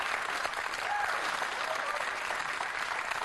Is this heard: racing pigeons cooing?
no